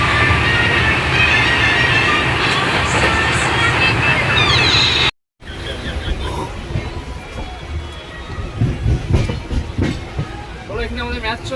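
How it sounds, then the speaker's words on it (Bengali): A passenger train rolls along during a train journey toward Vizianagaram junction, with loud rhythmic clickety-clack and rumbling wheel noise, then a quieter carriage interior after a brief cut with scattered clacks. "অনেক পর আবার একটা ট্রেন জার্নি করছি"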